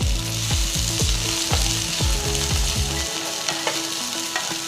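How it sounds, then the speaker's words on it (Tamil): Shallots, green chillies and ginger sizzle in a hot pan, with rhythmic scraping stirs for the first three seconds, then a steady close frying hiss continues alone. "3 நறுக்கின பச்சை மிளகாய், பொடுசா நறுக்கின 1 துண்டு இஞ்சி சேர்த்து வதக்குங்க."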